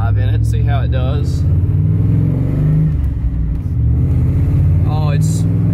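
A muscle truck fitted with Holley Sniper EFI drives along, its engine rumbling and revving steadily up close while someone talks over it in bursts throughout.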